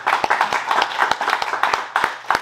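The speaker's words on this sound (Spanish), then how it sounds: "un aplauso para Eric, el Terrible Morales" A press-conference audience claps for boxer Erik Morales ahead of an exhibition fight, a fairly small group giving brisk, uneven hand claps with distinct sharp slaps standing out over a light background hum.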